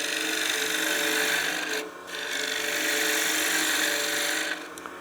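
A spindle gouge cuts a small wooden artifact pot spinning on a lathe, giving a steady, close scraping hiss that dips briefly near the two-second mark before running on evenly.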